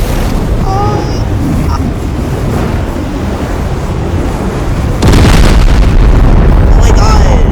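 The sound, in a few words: asteroid explosion destroying space station in Teardown video game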